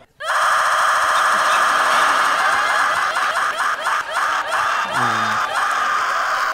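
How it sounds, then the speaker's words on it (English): A woman's high, sustained scream runs loud and continuous for several seconds, with the rapid ticking rattle of a spinning prize wheel beneath it and a brief low voice near the end. "we replaced the ticking sound of our wheel with the sound of a woman screaming"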